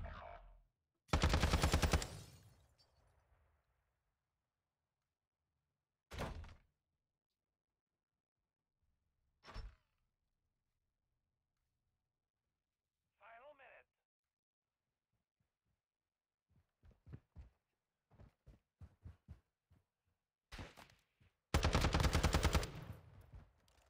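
Call of Duty gunfire: two loud, rapid automatic bursts at the start and end, with scattered single shots and short volleys in between, separated by long quiet gaps.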